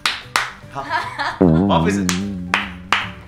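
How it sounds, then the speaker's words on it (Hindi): Three sharp hand claps ring out in a game-show setting. People are talking and voices overlap between the claps. "तीन बार करना है तीन बार ताली"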